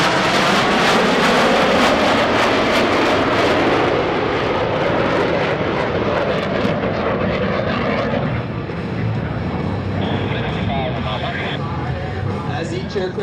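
US Navy Blue Angels jets roar low over an airshow flight line in a brake-turn maneuver, a loud sustained jet rumble and whine that shifts as the aircraft split apart, with an announcer talking over it.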